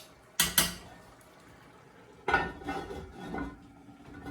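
A lid clatters onto a pot of simmering seafood soup, two quick metallic knocks followed a moment later by a scraping clank and a softer settle, close and quiet.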